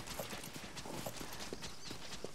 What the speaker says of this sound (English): So if you turn around and look behind you, you can see yourself riding a horse.